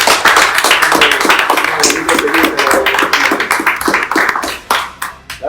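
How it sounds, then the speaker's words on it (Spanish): An audience gives a strong round of applause for Julius and Carlos after a morning screen-printing performance, loud close clapping with distinct individual claps, thinning and becoming more scattered toward the end. "Vamos a terminar esto con un fuerte aplauso para Julius y para Carlos."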